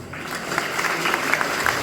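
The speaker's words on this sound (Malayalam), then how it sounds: "കൈയടിക്കണം, എന്നാലേ ഞാൻ പാടത്തുള്ളൂ" Children clap together on request before a song at a disability day gathering, a steady, dense patter of many small hands kept up for about two seconds without pause.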